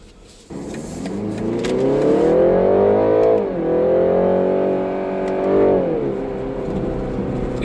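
A BMW 330e M Sport accelerates hard in sport mode on a slippery road, its engine note rising steadily in pitch, dipping briefly at gear changes, then climbing again. Loud and close, with no talking.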